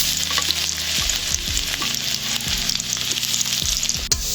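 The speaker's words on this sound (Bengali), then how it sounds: "এরপর দিয়ে দেবো রসুন কুচি," Chopped garlic hitting hot oil just used for frying cauliflower, a loud continuous sizzle close by, with repeated scraping strokes from a spatula stirring it, no voices.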